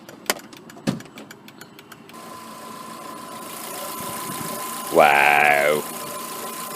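A 1.6-litre 16-valve engine with variable valve timing in a VW Polo GTI idles as a low, steady hum after a couple of sharp clunks. A person briefly exclaims over it.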